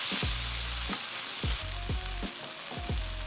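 Gochujang and sesame oil fry in a pan for kimchi fried rice with a loud, steady sizzle. A spatula strikes and thumps the pan in a regular rhythm about every half second, heard close with no voices.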